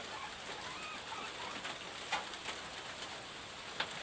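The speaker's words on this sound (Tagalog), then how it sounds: "umuulan dito sa amin" Steady rain falls outdoors in a rural spot near a bird trap, a soft, even patter heard from close by, with a few sharper drops and faint bird calls mixed in.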